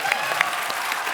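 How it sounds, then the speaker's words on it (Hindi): Studio audience applause on a Hindi comedy talk show set, a steady wash of clapping across the whole short moment with no voices standing out. "तालियां।"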